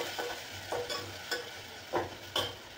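Ginger and onion frying in a pan make a soft steady sizzle, with a spoon stirring and scraping in a few brief strokes, faint and close.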